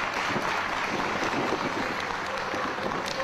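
A wrestling show crowd applauds steadily, a dense wash of clapping with faint cheering mixed in, continuous and even throughout.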